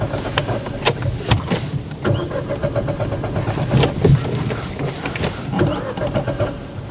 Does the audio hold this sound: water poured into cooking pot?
no